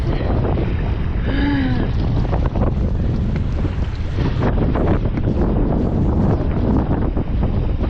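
Strong wind roars across the microphone aboard a sailboat under way, a loud, constant buffeting rumble mixed with water rushing past the hull, with a brief whistling tone early on.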